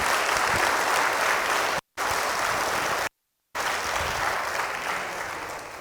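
A congregation at a Catholic healing retreat gives a parish priest a big round of applause for his feast day, a dense, steady wash of clapping that fills the room, briefly cut by two short gaps.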